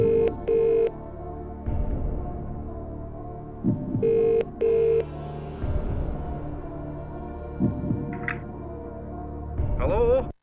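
A phone line rings out twice in paired electronic trills for a phone-a-friend lifeline call on Who Wants to Be a Millionaire, set over a low throbbing tension music bed with a heartbeat-like pulse, ending in a brief pickup click.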